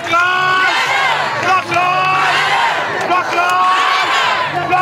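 A dense crowd at an anti-racism street demonstration jumping with arms raised, roaring, whooping and chanting together in rising and falling waves, loud and close throughout.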